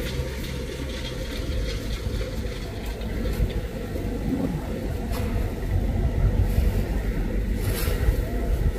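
A tractor ploughing a field on an organic farm gives a steady, fairly loud engine rumble that holds through the whole stretch and swells slightly toward the end, with no clear talking over it.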